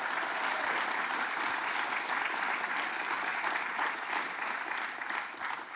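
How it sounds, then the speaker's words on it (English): Sustained applause from an audience at a paid family leave rally in the Hudson Valley, a steady dense wash of many hands clapping that holds at even strength for several seconds before easing slightly. "Let's give the mayor a round of applause."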